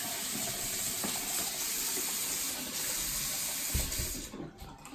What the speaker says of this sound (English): I'm just gonna rinse my hand really quick.